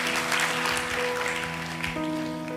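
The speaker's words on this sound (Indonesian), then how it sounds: "Boleh kasih tepuk tangan buat tim praise and worship kita." A church congregation applauds the praise and worship team with a steady wash of clapping, while sustained keyboard or organ tones ring underneath throughout.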